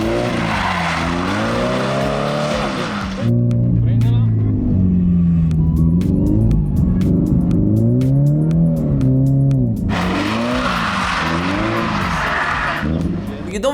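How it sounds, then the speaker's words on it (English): A drifting car at full throttle, its engine revving loud and close with rising and falling pitch sweeps, plus bursts of hissing tire noise at the start and end. "when the car starts to drift, you keep the throttle on, you launch the steering wheel in counter steer"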